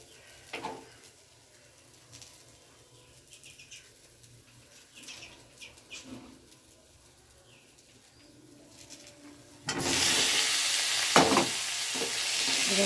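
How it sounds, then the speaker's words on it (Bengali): Pre-fried potatoes go into hot spiced oil and are stirred: a loud, steady sizzle starts suddenly near the end, after a long quiet stretch of faint kitchen noises. "এবার দিয়ে আলুগুলোকে আরেকবার ভালো করে নেড়ে চেড়ে নিই।"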